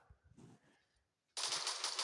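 Quiet rustling and faint clicks, then a sudden loud burst of rapid automatic gunfire with a game-like sound that continues steadily to the end.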